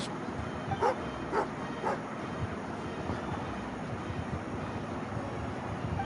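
A dog gives a few short, sharp barks mixed with whimpering yips early on, then the sound settles into a steady low background hum.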